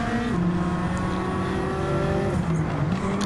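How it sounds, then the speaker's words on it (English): A race car in the GTCC Championship at Autopolis, Japan, slides through a bend in a big four-wheel drift, its engine roaring loud and close with a steady tone that dips and rises again near the end. "we get the car into a big four-wheel drift around the bend"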